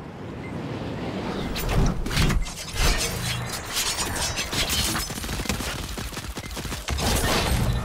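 Pistol gunfire from a shooting video game in a knockout shuffle mode, with dense, rapid volleys of loud shots and sharp impacts filling the whole stretch without a break.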